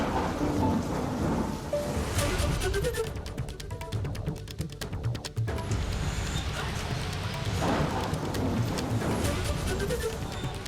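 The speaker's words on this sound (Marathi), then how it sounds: "भिवंडीत पावसाने दमदार हजेरी लावलेली आहे" Heavy monsoon rain pours down steadily in Bhiwandi, with loud rolling thunder and a sharp crack rumbling through the downpour.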